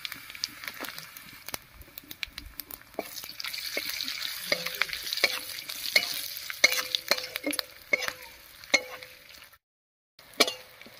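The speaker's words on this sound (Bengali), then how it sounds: "মশলাগুলো ভাজা হয়ে গেছে, নামিয়ে নিচ্ছি" Whole cumin, coriander seeds and green chillies frying in oil in a pan, with a soft sizzle broken by repeated sharp scraping stir strokes and small pops, close and loud, pausing briefly near the end.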